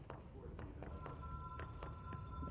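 In the video game Control, a hotline telephone rings with repeated sharp, evenly spaced bell trills and a faint steady tone behind them, heard from a short distance over quiet background rumble.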